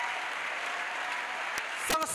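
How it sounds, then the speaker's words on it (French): A congregation applauding at an evangelistic crusade service, a steady wash of clapping from many hands at moderate level, with voices mixed in. "Acclamation à Jésus-Christ. Clap to Jesus."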